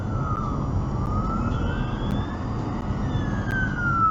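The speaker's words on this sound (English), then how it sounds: "I've been seeing these fire engines everywhere" A UK fire engine's siren wails in slow rising and falling sweeps, heard moderately far off over steady road and car-cabin rumble, with no talking.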